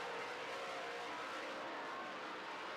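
Late model race cars roar around a dirt track in a steady, distant wash of engine noise, with no individual pass standing out.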